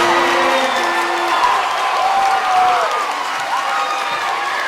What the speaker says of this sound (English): Crowd is erupting. Crowd's erupting. Shot is good.